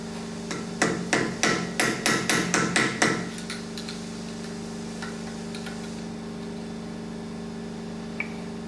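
A lock tab hammered over the outer nut of a Toyota 4WD closed-knuckle front axle, about ten quick metallic blows in a steady rhythm, close and loud, followed by a constant background hum.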